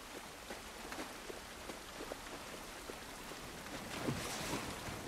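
Rain falls outdoors in the video game The Last of Us Part I, a soft, even patter with scattered droplet taps and a slight swell toward the end, with no talking.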